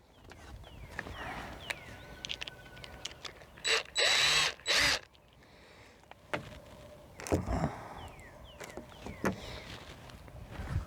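A ratchet works a 10 millimeter bolt out of a Corvette window assembly in short bursts of clicking. Between them come quieter scrapes and handling noises from the car door, all heard up close with no talking.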